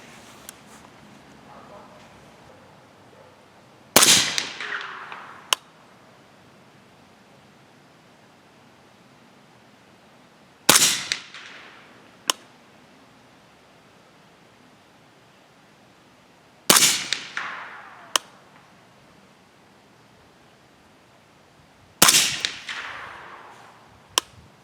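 Four sharp rifle shots from a 300 Blackout gun firing 208gr Hornady A-MAX handloads at an outdoor range, each a loud crack with a short ringing tail and a faint metallic tick, spaced several seconds apart over quiet background.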